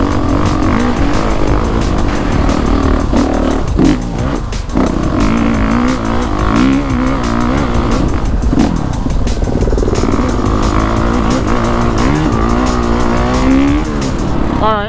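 Honda CRF450RX dirt bike ridden off-road, the loud close engine roaring and revving continuously with rising and falling pitch through gear changes and throttle blips, with no talking.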